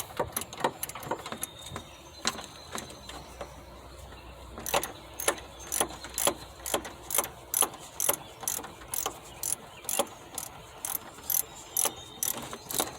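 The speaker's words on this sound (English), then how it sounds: "You use a 10mm to remove these screws." A ratchet wrench fitted with a 10mm socket backs screws out of a 2006 Kia Spectra engine bay. It gives sharp, close, rhythmic clicking in rapid bursts, with short pauses between turns and no talking.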